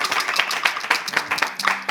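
A studio audience claps briskly for a moment in a steady patter of many hands, loud and close, with no talk over it.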